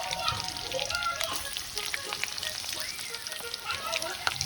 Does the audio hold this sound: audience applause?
no